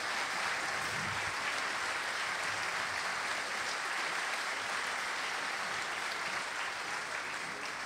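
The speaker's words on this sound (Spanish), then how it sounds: "El aplauso para él." An audience at the Teatro Dante, a theatre, claps loudly in a long, even burst of applause that carries on without a break throughout.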